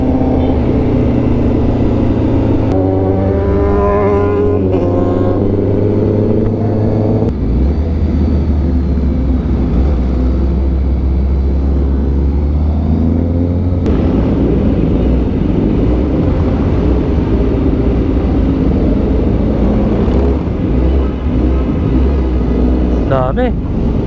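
A Honda CBR1000RR-R Fireblade SP motorcycle on a slow group ride, held in first gear. Its engine drones loudly and steadily with shifting pitch, under continuous talking.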